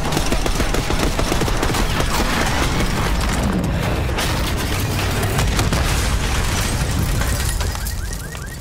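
Loud, dense gunfire and booming blasts from the Black Ops 6 campaign mission Blood Feud, with automatic bursts fired at a limo in a street, continuous and close with no talk over it.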